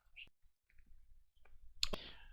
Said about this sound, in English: Double clicking here